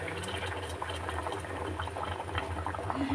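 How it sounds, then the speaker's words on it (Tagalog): Water bubbling at a steady rolling boil inside a multi-cooker, a close, continuous churning with no talk. "Ayan o, bilis na kumulo."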